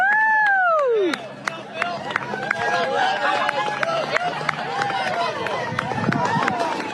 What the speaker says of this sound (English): Here's the sights and sounds of the real American patriot kids walking out in Pennsylvania.